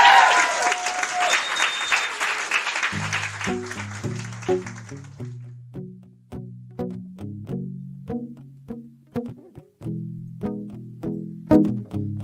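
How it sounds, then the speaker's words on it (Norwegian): A crowd at the Kvarteret venue gives warm applause to welcome a singer. Dense clapping fades over the first few seconds as low piano chords begin and continue alone. "gi en varm applaus og ønsk velkommen med deilig livemusikk"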